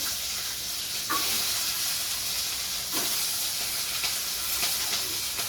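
Steady hissing sizzle of mustard seeds in hot oil with a few sharp pops and crackles scattered through, close by, no talking.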